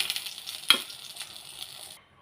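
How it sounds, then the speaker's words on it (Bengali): Pointed gourd (potol) fries in hot oil with a steady crackling sizzle, a sharp clatter near the start and a fade to quiet at the end. "ভালো করে পটলটা একটু ভেজে নেব।"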